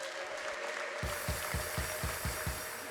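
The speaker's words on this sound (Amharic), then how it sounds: "እልል በሉና ጭብጨባ ለእግዚአብሔር" A church congregation clapping in a steady, rhythmic beat of about seven claps, following a moment of cheering and ululation, heard at moderate distance.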